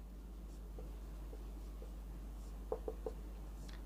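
Pen or chalk writing during a class 10 math lesson on the converse of Thales' theorem: faint, sparse scratching strokes over a low hum, with a quick cluster of sharper taps near the end.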